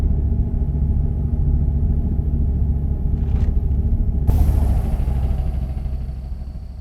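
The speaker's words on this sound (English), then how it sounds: "Let's use this downhill to get some engine braking." A Kenworth T700 with a Paccar MX-13 engine, in American Truck Simulator, rumbles with a deep, steady engine brake on a downhill in California, loud and close, with a sudden shift to a brighter tone partway through.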